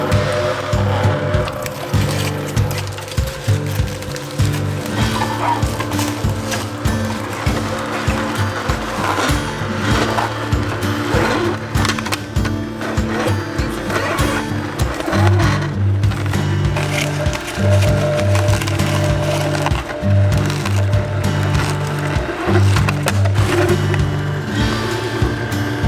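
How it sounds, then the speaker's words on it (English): A kitchen juicer crushes apples and carrots with a continuous coarse grinding and rattling whir, loud and close, with uneven bursts as pieces feed through. "I can't hear you. The juicer's on."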